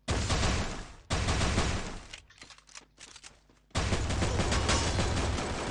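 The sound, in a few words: pistol gunfire in a shooting video game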